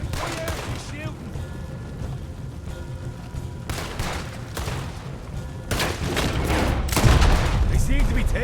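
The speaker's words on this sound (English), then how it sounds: "Oh yeah, he's shooting." Gunfire in a Red Dead Redemption 2 shootout with guards: repeated sharp shots and booming bursts come at irregular intervals, loud and close, growing denser toward the end.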